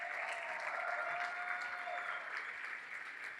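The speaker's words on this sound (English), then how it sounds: "if y'all give a round of applause to Glenn Craig" Sustained audience applause for Glenn Craig at a Youth for Christ anniversary event, a steady wash of clapping throughout with a faint tone running beneath.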